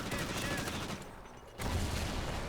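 Sustained rapid gunfire in the video game Call of Duty: Ghosts, dense overlapping bursts that briefly thin out near the middle before surging back loud and close.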